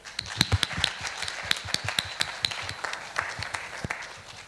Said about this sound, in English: big applause for our speaker